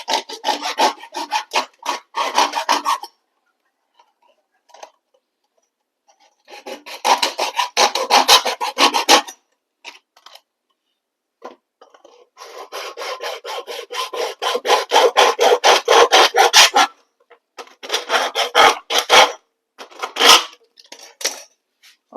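A hand tool saws and rasps through waste household material in repeated bursts of fast back-and-forth strokes, with short pauses between rounds.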